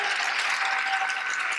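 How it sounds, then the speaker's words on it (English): Brief burst of steady applause from an audience at an immigration symposium, many hands clapping evenly and close, with no talk over it. "I think we ought to hear a special applause for Gabriel."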